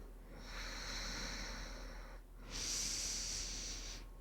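Two long, steady breaths during a gentle yoga flow class, each a soft airy rush lasting about two seconds, separated by a brief pause, close and alone with no talk.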